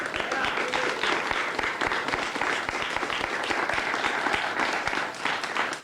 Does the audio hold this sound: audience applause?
yes